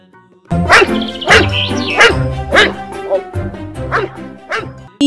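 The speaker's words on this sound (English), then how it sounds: "D for dog." A dog barks and yips several times in a children's alphabet phonics song, the barks loud and close over bright sung melody and music.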